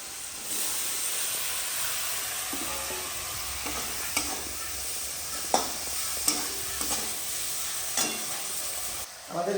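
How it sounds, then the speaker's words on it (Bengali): Curry being cooked with ground spices in a village home kitchen, with steady stirring and a constant frying sizzle, sharp scrapes and clinks of the utensil against the pan, and no talk. "গুঁড়ো মশলা দিয়ে রান্না হচ্ছে।"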